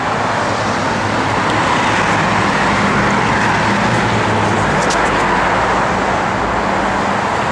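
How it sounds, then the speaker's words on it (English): Trucks passing on a road near a building under remodeling, a loud, continuous broadband rumble of traffic with a steady low engine drone, close by and unbroken. "Sorry about the trucks in the background"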